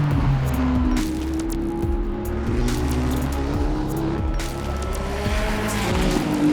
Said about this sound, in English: You can feel the commentary box shaking as a couple of thousand horsepower rolls past them.